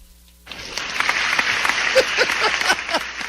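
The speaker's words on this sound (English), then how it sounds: "Daniel gave himself a round of applause before I said it" A single round of applause on a radio talk show, a short burst of close clapping that starts abruptly, keeps an even pace for a few seconds and is mixed with some faint voices.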